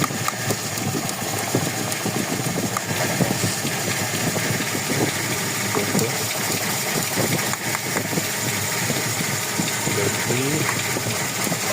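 A Toyota Revo with a 1RZ engine idles steadily up close, with an uneven, stumbling beat from a misfire under a constant mechanical drone, while a person talks over it.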